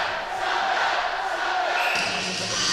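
Hockey arena crowd at a UNM Lobos versus DBU Patriots game growing loud during a song, a broad sustained roar of voices and singing that swells and holds, with a commentator talking over it.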